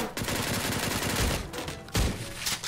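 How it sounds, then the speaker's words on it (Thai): Surviv.io gunfire from other players sounds as a dense, continuous crackle of shots with a couple of louder bursts near the start and around two seconds. "เฮ้ยได้ยินเสียงคนแถวนี้ซ้ายมือข้างบนยิงกันอย่างนี้เลยเหรอ"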